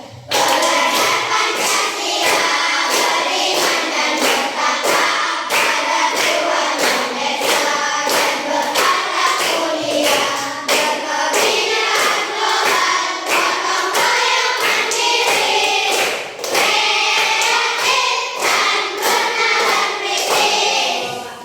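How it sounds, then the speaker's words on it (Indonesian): A classroom of children claps the Pancasila rhythm, fast and dense, with many hands striking together in a steady run of loud claps and thuds and little talk. "Coba tepuknya di Pancasila"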